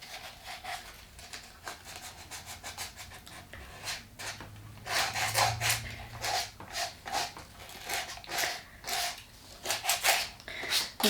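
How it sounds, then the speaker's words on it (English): Someone scuffs the painted red sole of a Louboutin shoe in short rasping strokes, an uneven series of close scratchy rubs that come in bursts with brief pauses between them. "On the paint here, just scuffing that up a bit more"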